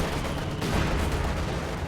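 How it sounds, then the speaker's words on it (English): An anti-tank gun shot bounces off a Tiger tank in a multiplayer video game battle, buried in a loud, continuous wash of gunfire and explosions with no clear single impact standing out. "Anti-tank gunshot bounces."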